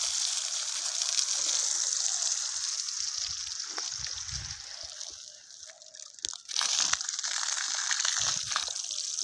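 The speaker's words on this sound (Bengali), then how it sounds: "এই যে পানি দিয়ে যাচ্ছি যতটা সম্ভব, পাইপ যায় তত দূর পানি দিয়েই থাকবো" A battery-powered DC mud pump pushes water through a pipe onto freshly laid soil, producing a continuous loud gushing splash with brief dips and bursts of sloshing near the end.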